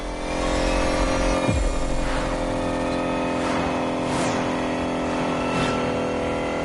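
An electric Lotus in the racing game Motorfest accelerates with a smooth, rising whine, and several quick whooshes of other cars passing by come and go over a steady road hum.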